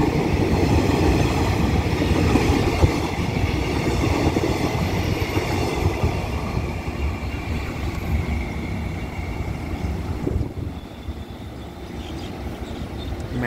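Express train crossing a cable-stayed bridge in Ratchaburi on its first run, a loud, continuous rumbling roar of wheels and carriages that fades slightly toward the end, with no talking.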